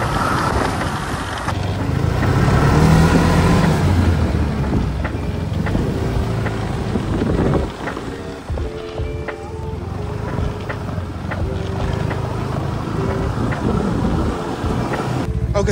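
Snowmobile engine droning steadily while riding across snow near Rovaniemi, a continuous close motor roar mixed with heavy wind buffeting on the microphone.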